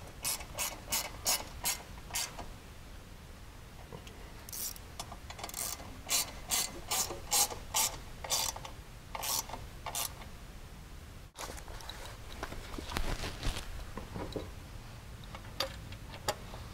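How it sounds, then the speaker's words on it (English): Ratchet tightening the mounting hardware of a skid plate on a CFMOTO ZF800 Trail motorcycle, quick bursts of close, crisp clicking separated by short pauses, at low volume with no speech. "Once you're happy, then you can start tightening down your hardware."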